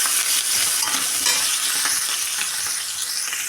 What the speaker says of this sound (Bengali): এখন এই তেলের মধ্যে আমি যে আদা জিলিয়ান করে কেটেছি, রসুন এবং কাঁচা লঙ্কা, সেগুলো সব দিয়ে দেবো।